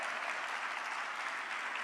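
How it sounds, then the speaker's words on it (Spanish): A church congregation claps in spontaneous welcome, dense continuous applause from many hands filling the room at a steady level throughout, with no pause. "Gracias por el aplauso espontáneo que siempre damos"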